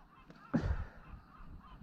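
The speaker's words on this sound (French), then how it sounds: "C'est quand même fou de se faire arrêter par des oiseaux quand même." Geese or similar large birds blocking a path on the Frioul archipelago off Marseille give a single loud nearby honk, followed by fainter background noise and no talk.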